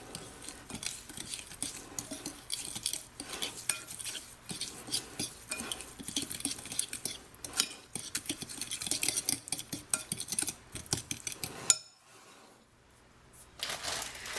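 Melted butter mixture stirred in a bowl with a utensil for Oreo rolls with cream cheese frosting, making close, continuous clinks and scrapes that stop abruptly near the end, leaving a brief quiet gap.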